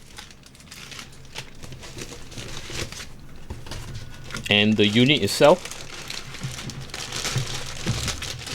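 Thin plastic bag wrapping a Montech Century II power supply crinkles and rustles briefly and close by in a short burst, with someone talking before and after.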